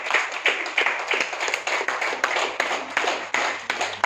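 A small group clapping for a student named Ashna, quick uneven hand claps in a room, close and moderately loud, no speech over it.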